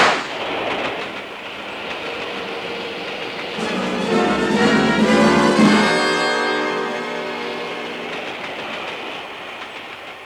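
Steam-era train running along the track as a 1958 radio comedy sound effect, a steady rumble with rhythmic clatter that swells to a loud peak midway and then settles, no voices.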